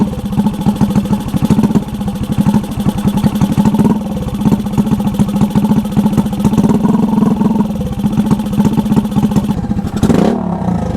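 Honda Ruckus scooter that sat unused for three weeks idles close up with a loud, rapid, steady putter, and a brief louder burst comes near the end.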